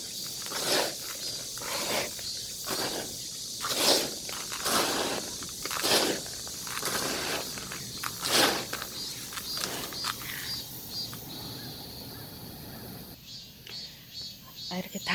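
Potting soil being mixed in a container for planting succulents, giving repeated soft gritty scrapes and rustles at a close, quiet level, with a few short bursts of rough shaking and no clear talk.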